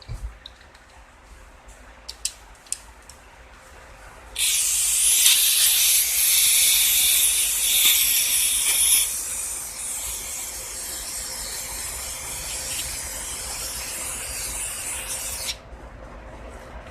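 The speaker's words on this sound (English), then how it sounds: "Good general spray over there and clean up." A loud, steady hiss of cleaner sprayed in long bursts through a Murray lawn mower carburetor, with brief clicks beforehand and a slightly softer spray continuing before it cuts off.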